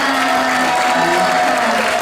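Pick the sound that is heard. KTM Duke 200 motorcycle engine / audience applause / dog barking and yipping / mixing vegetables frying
audience applause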